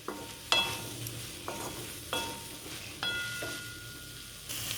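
Twelve green chilies dry-frying in a pan for a gourd chutney, with a soft, low sizzle under five or six separate scraping stirs of a spatula, close and quiet, with no talk.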